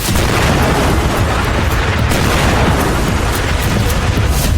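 Explosions from US-Israeli air strikes with cluster bombs on residential areas: a loud, dense, continuous rumble of blasts and booms with no clear gaps, harsh and distorted, with no talk.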